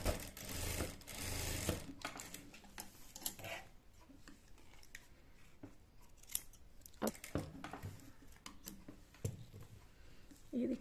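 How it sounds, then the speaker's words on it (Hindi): A domestic sewing machine stitches fabric for a child's salwar, running in a few loud bursts near the start and later, with quieter handling of cloth and clicks between. "तो अब मैं इसको इसके ऊपर रख करके सिल ले पाती हूँ"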